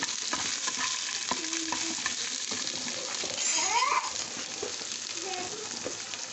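Peanuts, green chillies and onion dry-roasting in a pan for peanut chutney give a steady, close sizzle throughout, with spatula scrapes and stirring clatter rising briefly near the middle.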